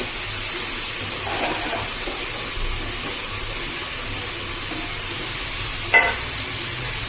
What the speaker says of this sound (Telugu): ఇది బాగా మిక్స్ చేసుకోవాలి. ఇది కొద్దిసేపు ఫ్రై అవ్వాలండి